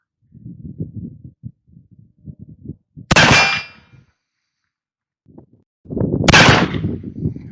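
Two loud, close gunshots from a Remington revolver, each followed by a sharp metallic ring of the round striking a steel target, about three seconds apart, with someone talking quietly before and between the shots.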